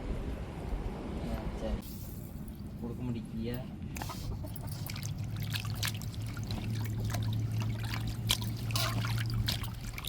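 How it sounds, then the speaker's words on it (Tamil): Raw chicken pieces for chicken lollipops are rinsed in water, with trickling and sloshing splashes. A voice is briefly audible near the start. "நம்ம சிக்கனை நல்லா அலசி எடுத்துக்கிடுவோம்"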